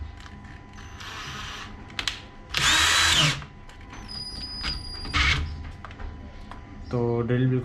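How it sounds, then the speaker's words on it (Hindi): A cordless drill, freshly fitted with a repaired battery pack, runs in short bursts of whirring motor noise with brief pauses and clicks between them, close up and loud, with no talking. "तो ड्रिल बिल्कुल सही काम कर रही है।"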